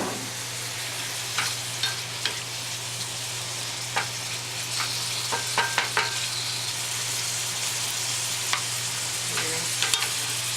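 Mushrooms fry in olive oil with a steady close sizzle and an underlying hum, broken by scattered spatula clicks and stirring scrapes, no voices.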